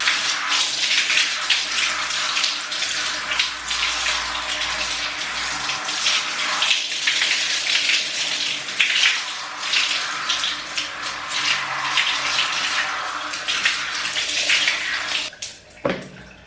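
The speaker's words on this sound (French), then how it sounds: "Allez, je vais rincer encore." Water runs steadily from a tap as hair is rinsed in a bath or sink, a continuous splashing hiss that lasts throughout, close and fairly loud, with uneven surges as the flow hits the head, then cuts off near the end.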